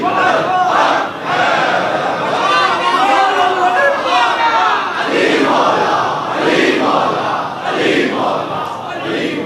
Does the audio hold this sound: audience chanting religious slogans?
yes